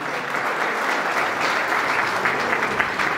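Wedding guests applauding for Razi, a steady wash of clapping from a crowd that holds evenly for the full stretch with a few sharper claps near the end.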